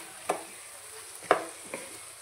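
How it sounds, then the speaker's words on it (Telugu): Pieces of drumstick (moringa pod) stirred into softened frying onions in a pan, giving three short scraping, clattering stirs over a faint steady sizzle, fairly quiet and close, with no talking. "ఇప్పుడైతే ములక్కాడలు వేసుకోవాలి. వేసుకొని ఒకసారి బాగా కలుపుకొని"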